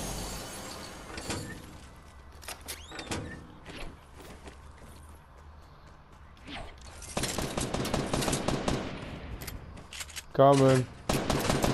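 Gunfire in an online shooter game, bursts of shots and shattering cracks scattered through the stretch with a dense rapid volley toward the end, under a player's brief talk.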